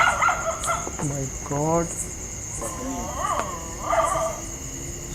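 A dog cries at night in a rural spot, giving several wavering, drawn-out whines and yelps with gaps between them. Steady crickets chirp behind, and a man exclaims briefly.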